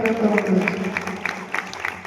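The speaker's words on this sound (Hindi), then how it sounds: "ताली बजा दो" Audience clapping at a Hindi spiritual discourse, with a voice carrying on over the claps, which come in irregular bursts at moderate loudness.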